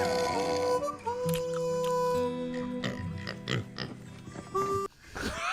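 A pig grunts and oinks repeatedly from a video being played back, with snorting, wet-sounding grunts heard over a steady hum, loud and close, with little talk.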